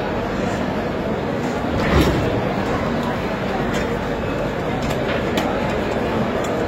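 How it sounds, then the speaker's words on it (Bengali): Mithila Express pulling out of Asansol Junction, a steady rumbling rattle of the moving train with a brief louder clunk near the start of the second, heard from onboard while a person talks over it. "Train departs from Asansol junction."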